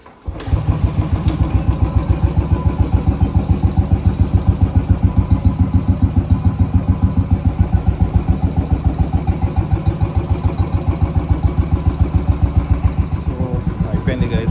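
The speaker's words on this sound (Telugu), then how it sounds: "మన బండి ఒకటి కిక్ స్టార్ట్ అవుతుంది." A Royal Enfield motorcycle fires up after a kick start and settles into a steady, loud thumping idle, its regular beat continuing close by for the whole stretch.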